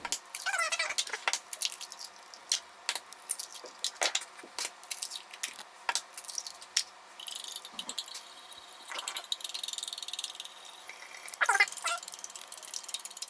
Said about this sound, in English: You want to crack your eggs into a bowl and whisk them on their own